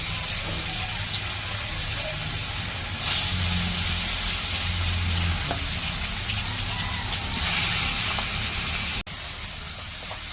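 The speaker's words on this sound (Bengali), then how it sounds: "মাছ তো মাখানো শেষ আমি ভাইজে নিবো" Mahseer fish coated in turmeric, chilli and salt fries in a village kitchen, giving a steady, close, broadband sizzling hiss that barely changes for the whole stretch, with no talk.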